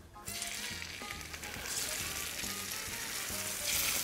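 Food sizzles and fries steadily in a very hot, smoking pan, a close, continuous crackling hiss with faint scraping knocks beneath it.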